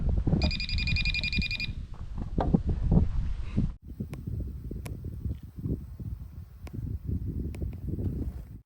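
Metal detector beeping with a steady electronic tone when held over old coins from around 1960 on a farm, a patterned high tone during the first couple of seconds, then handling noise and wind with intermittent clicks.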